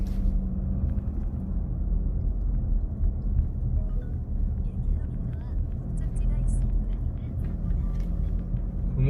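A car is driving along a fairly narrow road in Gajwa-dong, Seo-gu, Incheon. A steady, loud, low engine and road rumble continues without a break from inside the vehicle.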